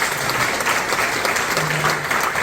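Sustained applause fills a church congregation in Ansan as members honor their elders, ordained deacons and senior deaconesses, a dense, steady patter of many hands with no voices over it.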